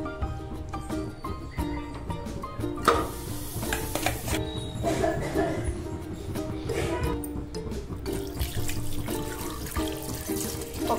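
Water poured into a pressure cooker holding marinated mutton for curry, a continuous splashing pour with clinks of metal and utensil movement, close and steady under faint background tones.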